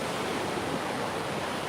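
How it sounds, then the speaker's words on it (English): Ocean waves breaking on Tables Beach at Patrick Space Force Base in Florida, small skimboarding-size surf heard as a steady, dense wash of noise with no talk. "These are nice skimboarding waves"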